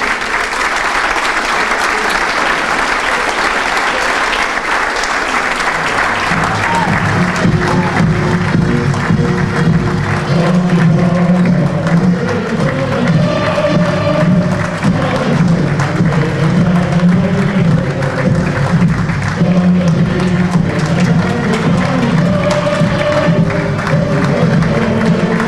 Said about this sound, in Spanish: nos ponemos de pie y el aplauso para los chicos y los grandes